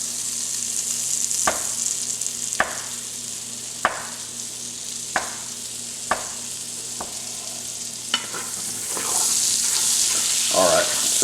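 Butter melts and sizzles in a jambalaya pot for sausage jambalaya: a steady, close frying hiss runs throughout, punctuated by sharp, regular taps of a utensil against the pot, and the sizzle swells louder near the end.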